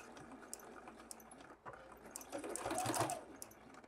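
A sewing machine stitches a small fabric matchbox bunny along a curve, running in steady bursts with a brief pause for a pivot before a louder backstitch run near the end.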